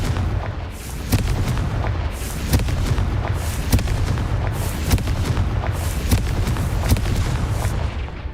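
Repeated loud blasts of the Confringo fire spell in Hogwarts Legacy, booming explosions recurring about once a second over a continuous rumbling roar, with no talk.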